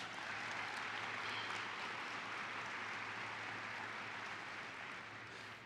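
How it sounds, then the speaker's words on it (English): Applause from a conference audience for an opera singer from the University of Nevada, Reno, after his national anthem; a steady, even wash of clapping that holds throughout and fades slightly at the end. "Give him a round of applause."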